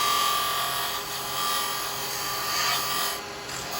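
A carbide chisel cutting wood on a lathe for a small Christmas angel, a steady rasping hiss of the tool against spinning wood with a faint high whine, close and fairly quiet, no talk.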